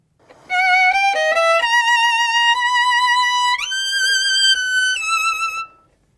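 A solo violin plays a short phrase of sustained, singing notes, sliding smoothly up to a higher position midway before settling and fading out.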